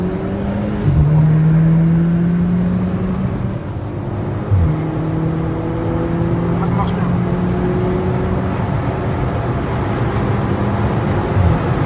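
A tuned Golf 6 GTI Stage 1 on ethanol, 270 horsepower, drones loudly at close range with windows open, pitch climbing through gear changes as it accelerates and overtakes, with wind noise and someone talking briefly over it.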